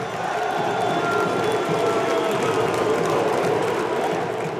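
Football supporters of Santa Cruz cheering at the Arruda stadium, a dense, steady wall of crowd roar with no single voices standing out, sustained and fairly loud throughout.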